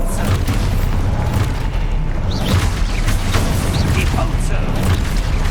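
A deep Expulso spell explosion booms in Hogwarts Legacy amid dense, continuous combat noise, with rumbling bursts and crackles running steadily throughout.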